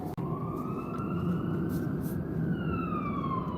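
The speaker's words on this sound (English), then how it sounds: "That siren is very close to me." Emergency vehicle siren wailing close by during a winter storm in the Ohio Valley, a loud steady sweeping tone held over heavy broadband road and wind rumble, with no talking.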